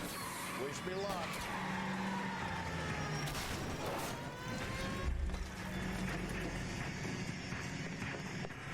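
Tires skid and squeal through a car chase in the video game L.A. Noire, with engines revving and vehicles ramming each other, under a steady roar and someone talking over the action.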